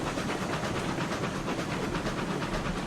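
A steam locomotive runs in the RailRoads Online video game, giving off a continuous broad hiss with a rhythmic pulsing chuff underneath, steady and fairly close, with no voices.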